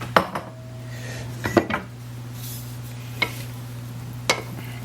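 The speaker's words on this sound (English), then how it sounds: "I'm now going to stir in the ham mixture and vegetables." A spoon stirs ham mixture and vegetables into a potato casserole, making a few scattered scraping clinks against the dish over a steady background hum.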